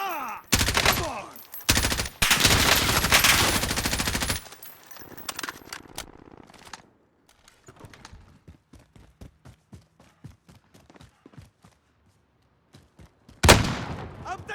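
Gunfire in Call of Duty Warzone: loud bursts of automatic fire up front, then a long run of sharper single shots and distant cracks, ending in another heavy burst.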